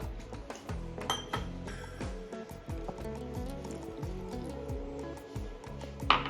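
Wet squishing and sloshing sounds repeat in a steady rhythm as semolina and yogurt batter is stirred with added water, close and fairly quiet.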